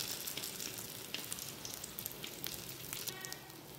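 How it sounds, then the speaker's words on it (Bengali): An egg frying in a pan late at night gives a faint, steady crackling sizzle with scattered small pops, heard alone at low level without any voices. "দেখুন, ডিমটা ভাজা প্রায় শেষ।"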